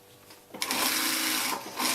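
A sewing machine stitches the seam of a yin yang pillow cover, starting abruptly after a quiet moment and running steadily and close for over a second with a brief pause before resuming.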